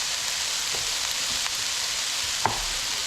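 Sliced eggplant sizzling in a skillet, a steady close hiss of frying with a few soft clicks and one sharper tap near the end, no voices over it.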